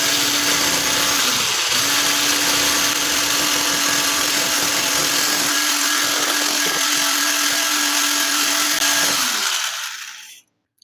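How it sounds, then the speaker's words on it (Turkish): An electric hand mixer whisking cake batter after a glass of flour is added, a loud steady whirring drone running for several seconds before switching off, close up and without talk. "Tekrar çırpacağım."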